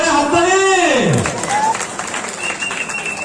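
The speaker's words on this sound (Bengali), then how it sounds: "এটা জোরে হাততালি" Loud applause from an inaugural gathering in Hailakandi welcoming an MP, with dense clapping running under a voice speaking over a microphone at the start.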